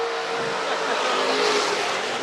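Race cars circle a county fair dirt track, a loud, continuous engine roar that swells slightly as they sweep around the turn.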